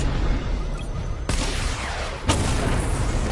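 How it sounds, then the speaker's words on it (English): Missile barrage firing in a Batman video game, a dense roaring blast of explosive noise that swells again with a fresh burst partway through, loud and continuous with no talk. "Missile barrage level 1 ready."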